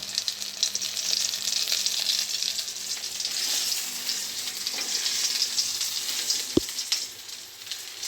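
Egg lollipops frying in oil, with a steady, bright sizzle and crackle throughout and one sharp tap near the end.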